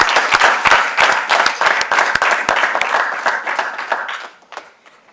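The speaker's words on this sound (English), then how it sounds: "I think another big round of applause for Professor Nwulu." An audience at a professorial inauguration gives a round of applause, loud, crisp claps from many hands that thin out and fade toward the end.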